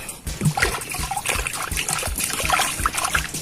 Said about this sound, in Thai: ก็จะล้างก่อนนะครับล้างให้พอาสะอาด